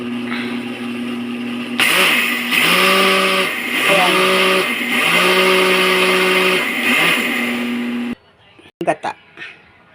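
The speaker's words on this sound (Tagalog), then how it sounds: "I-blender natin." A blender motor roars for several seconds, its whine rising and falling in pitch, then cuts off abruptly, followed by a few quick clatters.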